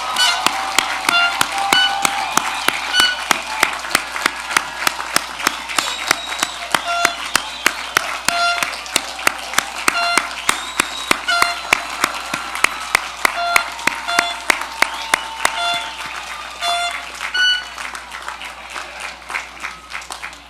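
Graduates at a college commencement ceremony give a long, spirited round of applause to their families and friends, with dense, sustained clapping and scattered sharp claps across the whole stretch, and some faint crowd voices mixed in.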